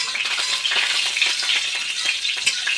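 Ghee heating in a pan, sizzling and crackling steadily at close range with a continuous bright hiss and small pops throughout, no voices.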